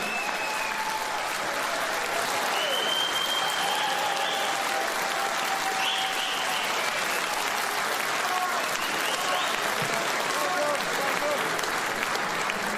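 A Sunderland crowd at a political rally stands and applauds, steady dense clapping sustained for over ten seconds at close range.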